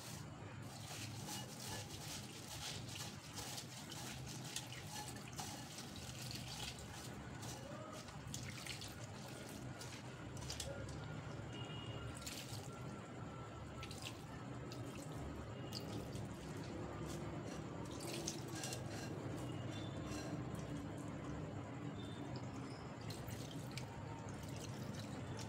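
Flattened rice (poha) rinsed in a strainer under running tap water in a home kitchen, a steady faint stream with dripping and splashing throughout, no talk.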